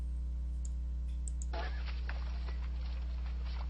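A computer mouse scroll wheel clicks repeatedly to adjust volume, a close, steady run of small ticks over a constant electrical hum.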